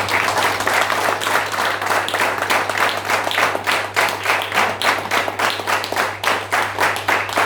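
Steady, loud applause from a seminar audience at an insurance sales meeting, dense clapping filling the whole stretch with no talk on top, over a constant low electrical hum.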